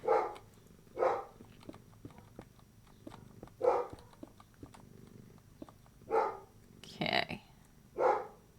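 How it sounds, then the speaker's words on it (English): A dog barks in single, evenly spaced bursts, about six in all, moderately close, with a short spoken word partway through. "There he goes again. Filled with barksy barks."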